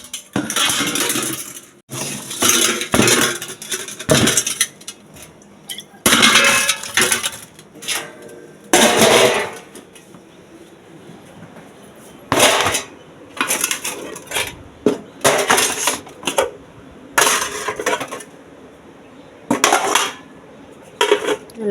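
Metal dishes, pots and cutlery clatter and clank loudly in repeated bursts while being gathered up during morning household chores, with short quiet gaps between handfuls.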